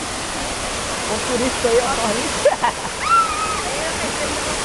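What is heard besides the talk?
waterfall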